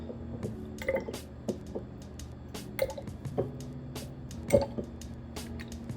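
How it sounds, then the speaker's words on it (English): Jojoba oil is poured into a container for a homemade dragon's blood mix, giving soft drips and glugs with faint glassy taps, quiet and close with no talking. "I'm just going to pour the jojoba oil in there. Just going to pour it straight on top."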